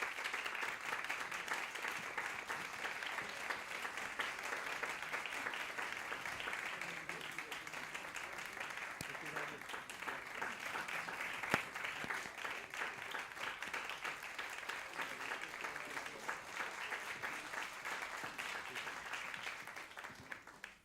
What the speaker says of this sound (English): Now, again, let us give a big round of applause to Mr. Lesage.